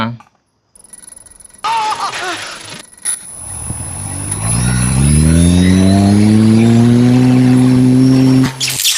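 A homemade fan driven by a drone motor spins up, its whine rising steadily in pitch and loudness into a strong, high, buzzing drone that holds loud to the end, with a person talking at the start.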